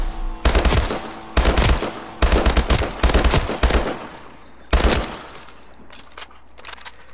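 HBR-A3 rifle in Call of Duty: Advanced Warfare fires in several loud rapid bursts, each about half a second, with short pauses between them and a trailing echo, then fades to quiet.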